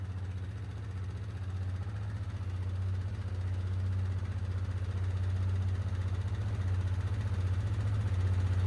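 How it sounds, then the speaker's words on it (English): An engine idles steadily with a low, even rumble that holds throughout, no talking over it. "We'll let her idle up for a few minutes, get that oil circulating"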